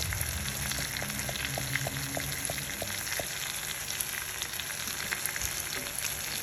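Asafoetida dropped into hot oil crackles and sizzles in a continuous close hiss, with small rapid pops running through it and no speech.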